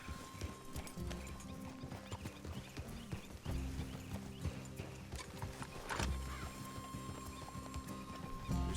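Steady clip-clop of a horse's hooves in Red Dead Redemption 2, rhythmic and fairly close, running through the whole stretch with a brief whinny and no speech over it.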